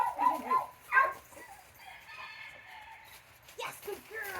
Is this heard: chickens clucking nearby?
yes